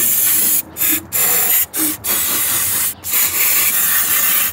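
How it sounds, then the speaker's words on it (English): CRC intake valve and turbo cleaner sprays from an aerosol can onto a Honda Pilot engine, a loud, steady close hiss broken by about five short pauses as the nozzle is released and pressed again. "I guess I'm just gonna spray this stuff too"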